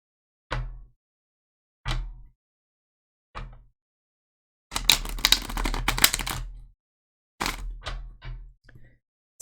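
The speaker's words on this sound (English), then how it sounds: "So we're going to shuffle here." Tarot cards are handled and shuffled close up: several sharp, evenly spaced taps of the deck, then a two-second crackling riffle, then a few lighter taps and flicks in a quiet room.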